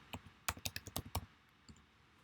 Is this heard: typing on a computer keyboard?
yes